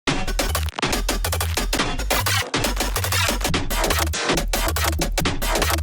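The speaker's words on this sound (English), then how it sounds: "I have this bass loop I made a few days ago" A dense, gritty synth bass loop pounds with heavy low-end pulses and bright, distorted textures, repeating in a driving rhythm without any voices.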